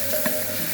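Ginger and garlic paste hits browned frying onions in a pan, a brief, steady, close sizzle with a faint bubbling swell.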